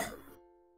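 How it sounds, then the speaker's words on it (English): A single short cough, fairly faint, quickly cut off and followed by a quiet tonal fade. "That was a cough."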